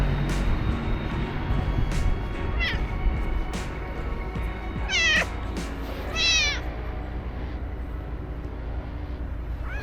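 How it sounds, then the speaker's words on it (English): A cat meows several times, short rising-and-falling cries spaced a few seconds apart, over a constant low rumble of background noise. "Apart from the kitty who's rubbing my leg at the minute."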